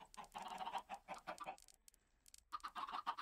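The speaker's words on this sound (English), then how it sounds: "this is a chicken farm." Chickens in a Minecraft chicken farm set up over hoppers, clucking in short repeated bursts, close and clear, with a brief quiet gap before the clucking resumes.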